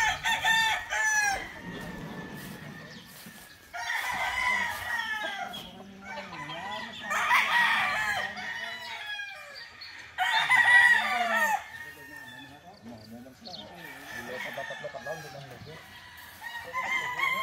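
Roosters crow repeatedly among clucking chickens at a poultry yard, several loud crows rising over the flock at intervals, with people talking in the background.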